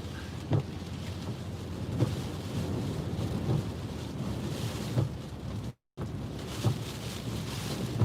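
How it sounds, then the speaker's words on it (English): Hurricane Isaias winds build near Wilmington, North Carolina, a constant rough roar buffeting the microphone with low rumbling gusts and periodic thumps, one brief dropout midway. "Winds are starting to pick up"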